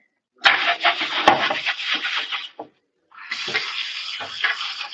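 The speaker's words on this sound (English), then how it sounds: "now I need to wash this pan real quick" A kitchen tap runs in bursts while a pan is washed in the sink, the water splashing and hissing steadily, stopping briefly, then starting again.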